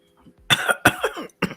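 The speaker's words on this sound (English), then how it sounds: "Not you coughing and choking." Someone coughs and chokes in a few harsh, close bursts, with a short pause before the last sharp cough.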